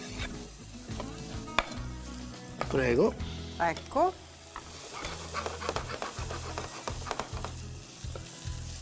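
Oil sizzles in a pan as garlic and cooked, chopped wild fennel are sautéed for a squid stuffing, with steady frying, stirring scrapes and a few sharp utensil clinks while people talk over it.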